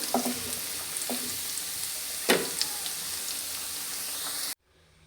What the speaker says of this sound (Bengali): ডাল বাগার দেওয়ার জন্য রসুন পেঁয়াজ ভেজে নিয়েছি